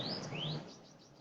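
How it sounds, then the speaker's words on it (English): Birds chirp near a garden bird feeder at sunset, with several quick rising tweets in the first half fading into a softer chorus of calls. "You can see how the birds are chirping here."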